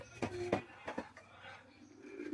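Pakistani high flying pigeons, including a young white-beaked bird, coo in a few close, soft bursts that fade into quiet background noise, with no talking.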